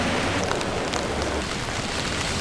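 Steady rain falling on a quiet street in Daikanyama, Tokyo, a dense continuous hiss of drops on pavement at even loudness throughout, with no voices.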